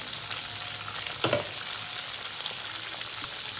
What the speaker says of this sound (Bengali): ডাটা আলুটাকে আমি হালকা ভেজে নিয়েছি